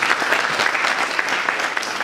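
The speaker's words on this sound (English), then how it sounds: "can we please clap for the graduates?" Dense, lively applause from a graduation ceremony crowd for the graduates, continuous and close, with quick overlapping claps throughout.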